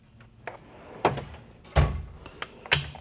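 Machinist's toolbox drawer opening in a shop, a few sharp thunks and slides spread over three seconds, fairly close and alone with no speech.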